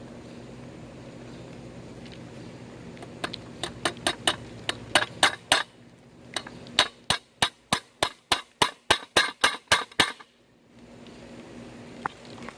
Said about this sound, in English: I'm actually going to hammer it in a little bit.